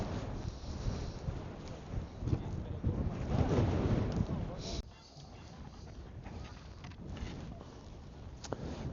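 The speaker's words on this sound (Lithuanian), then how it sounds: "Vėjukas normaliai čia pučia." Gusty mountain wind in the Sierra Nevada of Spain buffets the microphone with a loud, steady roar that eases slightly partway through, with no speech.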